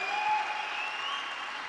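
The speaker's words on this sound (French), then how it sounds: "Merci d'applaudir très très fort Christophe Sapé et ses équipes." Applause from an audience at the world premiere show of the Navya Autonom Cab robo taxi, a dense continuous clapping from a crowd at moderate volume, steady throughout.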